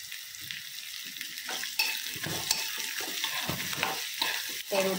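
Grated carrot and egg porutu mixture fries in oil with onion, ginger, green chili and a pinch of turmeric, giving a steady sizzle with scraping stirs and occasional louder pops and clatters.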